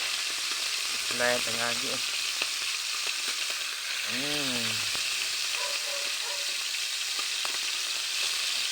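Pork liver fries in hot cooking oil with a continuous, close sizzle and crackle, while a voice talks briefly over it.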